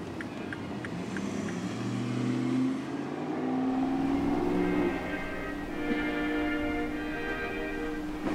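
A car pulls into a gas station, its engine note rising and falling as it slows and turns, with a steady close motor hum and shifting tones throughout.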